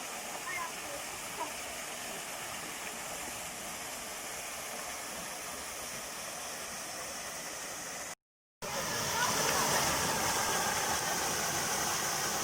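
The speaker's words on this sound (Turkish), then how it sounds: "Çek çek bitmedi arkadaşlar şelaleler." Steady broadband rush of waterfalls at Girlevik Waterfall in Erzincan, one of several large and small falls there, continuous and loud with no break in flow apart from a brief cut, growing slightly stronger afterward.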